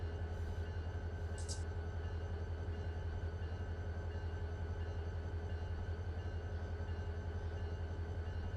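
Freight train in the Run8 railroad simulator backing down, a steady low locomotive rumble and drone held at constant level, with a brief high squeal near the start.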